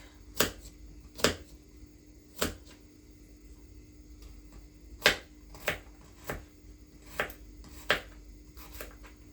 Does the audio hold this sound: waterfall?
no